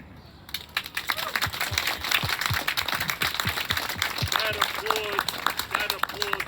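Audience applause at a talk by a survivor, rising after a brief quiet start into a continuous patter of many clapping hands, with scattered voices and murmurs from the crowd mixed in.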